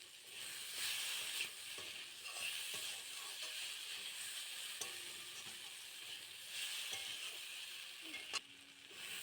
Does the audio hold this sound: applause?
no